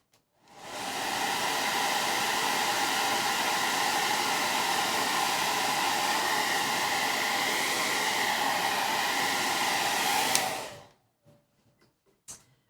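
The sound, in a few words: hair dryer drying a wet paint streak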